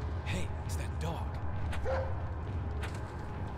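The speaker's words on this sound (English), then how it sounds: "here's the dog that we saved in the very first episode of our playthrough" A dog in the Resident Evil 4 video game gives a few short barks and yips over a low game background rumble, fairly faint, with a voice speaking over it.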